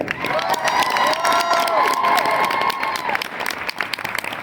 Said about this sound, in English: I would like a round of applause for players up front here